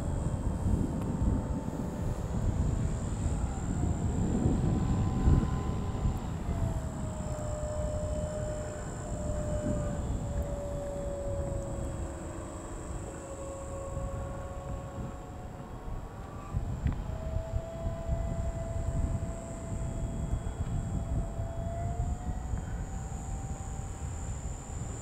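A small RC Star Cerva C2 autogyro spins its rotor up outdoors, making a thin whine that slowly rises and shifts pitch over a constant rushing background hiss, heard from a short distance with no voices.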